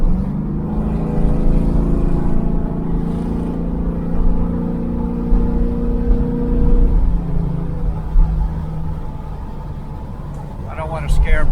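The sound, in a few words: carbureted hot rod car engine revving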